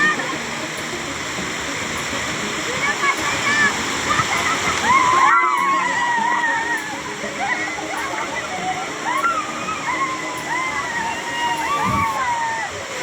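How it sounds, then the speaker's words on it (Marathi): Water splashes steadily down a man-made waterfall at a resort, a loud continuous rushing and spattering close by, with people's voices and chatter mixed in over it. "पुढे इथं धबधबा पण बनवलेला होता या लोकांनी"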